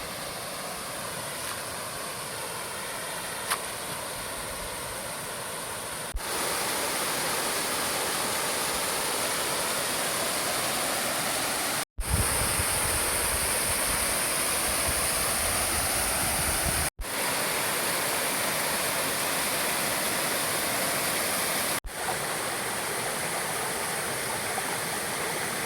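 Daco Falls, a waterfall on the Dinagat Islands, roars loud and steady with dense broadband rushing water, unbroken across the whole stretch apart from a few abrupt cuts.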